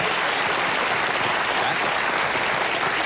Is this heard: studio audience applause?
yes